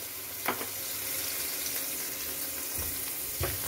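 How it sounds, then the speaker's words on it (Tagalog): Scallops and garlic frying in a pan give a steady, soft sizzle with a few faint clinks and stirring taps, heard close. "scallop. So, lalagay ko, i-fry ko muna. Sama ko pati bawang."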